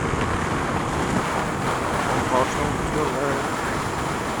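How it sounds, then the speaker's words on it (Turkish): Steady, heavy wind roars across the microphone in a constant broadband rush while riding a Kanuni Seha 150 motorcycle on a ring road, with faint road noise underneath. "Ciddi bir rüzgar var çevre yolunda bu arada."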